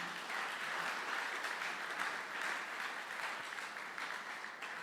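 A church congregation claps and cheers in praise of Jesus, a steady, dense wash of applause from a large crowd that holds for several seconds before easing slightly at the end.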